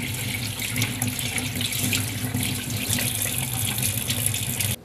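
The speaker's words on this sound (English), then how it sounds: "Now we're going to rinse these because they have a slimy outside on them." Tap water runs steadily into a sink as slimy oysters are rinsed, a continuous close splashing hiss with no talk.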